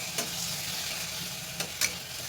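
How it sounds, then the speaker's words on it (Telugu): Tomato pieces softening in a pan, stirred now and then, giving a soft continuous sizzle with a few brief scraping stirs. "ఇలా మధ్య మధ్యలో మిక్స్ చేసుకుంటూ"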